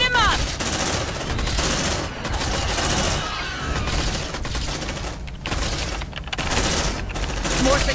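Gunfire in the video game Aliens: Dark Descent, dense sustained automatic bursts in several long volleys with short pauses, loud and close, with faint game voices mixed in.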